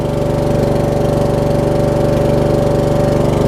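A Troy-Bilt Pony riding mower engine runs loud and close, a steady low rumbling drone with a regular chugging pulse throughout.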